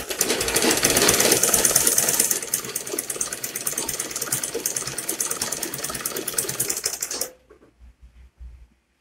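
A sewing machine stitches a flat cap of Ankara fabric in a fast, loud, close mechanical chatter that runs for about seven seconds and then stops, leaving a few faint clicks.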